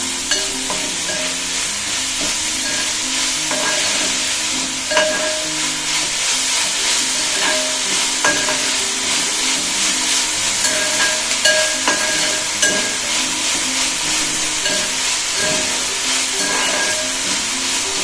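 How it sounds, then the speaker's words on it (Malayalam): Crushed ginger and garlic stirred into pork frying in a pan, making a continuous loud sizzle and hiss with scraping spoon strokes and small clatters throughout, and no one speaking. "ഇനി നമുക്കിത് ഇഞ്ചി വെളുത്തുള്ളി ചതച്ച് വെച്ചിരിക്കുന്ന ഇട്ട് കൊടുക്കാവേ. നല്ലോണം ഇളക്കി കൊടുക്കാം."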